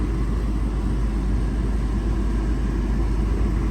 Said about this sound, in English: it gives it the okay to turn on the compressor, which it has just done